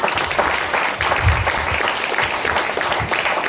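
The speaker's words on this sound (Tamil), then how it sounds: "உண்மையிலே கை தட்டி பாராட்டுங்க" An audience claps together at a Hindu religious conference, a steady, dense burst of applause close by that holds for a few seconds, with no voices over it.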